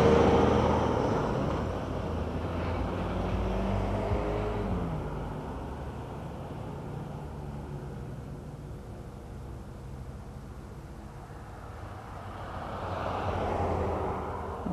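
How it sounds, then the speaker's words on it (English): A loaded truck passes by outdoors, its rumbling engine swelling, fading into a steady roadway hiss, then a second vehicle swell approaching near the end. "Another full truck coming by."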